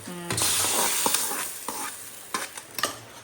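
Mustard seeds splutter and pop in hot oil, a sizzling hiss broken by several sharp crackles and bursts, close up with no talking.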